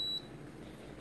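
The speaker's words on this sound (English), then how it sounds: "It will beep, one beep, when it has reached its peak temperature." A Krups BW760D51 gooseneck electric kettle gives a single short, clear beep at the start as it reaches boiling temperature, followed by a faint low background hum.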